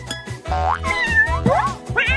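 A kitten gives several short rising meows in quick succession, close and clear, over a bouncy cartoonish backing.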